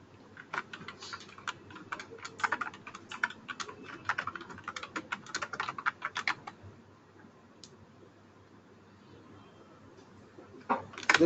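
Rapid typing on a computer keyboard, close and distinct, with dense clicking bursts for about six seconds, then a quiet pause broken by a few isolated keystrokes near the end.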